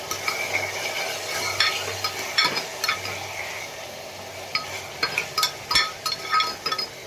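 A spoon works through a pot of black-eyed peas and potato curry seasoned with turmeric and salt, giving soft clinks and scraping stirs in short irregular bursts with quiet gaps, close and fairly faint.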